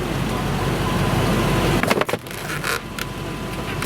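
A Land Rover Defender drives into a parked car: a loud, close engine rumble cuts off in a sudden crunching impact, then quieter scraping and settling noises follow.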